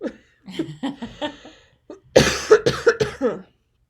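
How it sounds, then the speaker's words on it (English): Several rough coughs close up, with a throaty, wet rasp and a short hitch in between. "Now I'm gonna cough."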